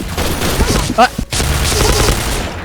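A lever-action shotgun being fired: one sharp, loud blast near the middle, preceded by clicks and mechanical handling noises, with someone talking around it.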